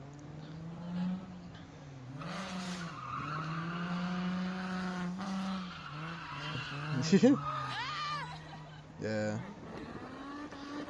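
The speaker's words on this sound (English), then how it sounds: "Big skid." Car tires squeal and skid at a drift event, mixed with a revving engine at mid distance. A person speaks briefly.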